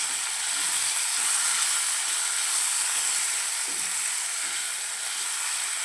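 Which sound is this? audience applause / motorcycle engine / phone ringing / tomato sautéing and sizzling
tomato sautéing and sizzling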